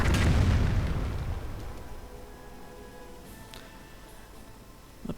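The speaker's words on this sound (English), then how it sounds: "Another Calliope barrage." Calliope rocket artillery barrage detonating in a Company of Heroes-style real-time strategy game, with a loud, heavy blast at the start that rolls into a long fading rumble, then a quieter sharp pop near the end.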